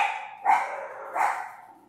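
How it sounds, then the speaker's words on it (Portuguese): Dogs bark twice outdoors, spaced under a second apart, moderately loud and slightly distant. "Olha, os cães já estão a ladrar,"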